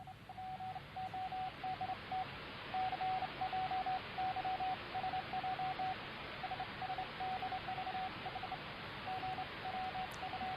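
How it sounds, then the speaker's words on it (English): Morse code radio transmission of Enigma traffic as an interceptor would receive it: a steady tone keyed in dots and dashes over a broad hiss of static, continuous throughout with no talk. "So some of the audience are already decoding this Morse"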